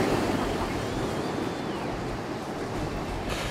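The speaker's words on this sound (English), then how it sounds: "That wave is travelling at nearly 15 miles an hour" Large wave rushing along a river at nearly 15 miles an hour, a loud continuous roar of churning water and surf sweeping past with wind noise on the microphone.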